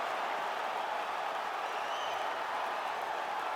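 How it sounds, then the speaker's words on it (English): A video-game arena crowd at a UFC 5 lightweight bout cheers and applauds between rounds, a steady, distant wash of roar and clapping that holds evenly throughout without any talk over it. "the crowd voicing its appreciation after that round"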